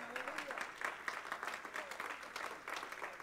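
A standing church congregation claps during worship, a fairly quiet, rhythmic mass of clapping with some voices mixed underneath.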